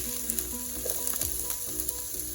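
Garlic sizzling in a hot pan for moussaka, a steady close crackle and hiss with faint stirring, no voices.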